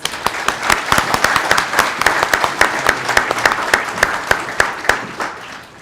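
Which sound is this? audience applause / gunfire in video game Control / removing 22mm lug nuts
audience applause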